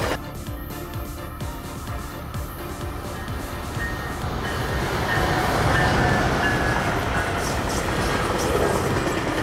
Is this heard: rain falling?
no